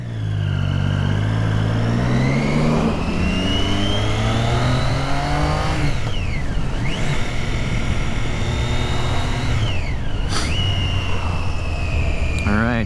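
A Triumph Street Triple R motorcycle pulls away in first gear, the engine rising in pitch through a rev and then settling, with further rev sweeps, loud and close under steady wind noise.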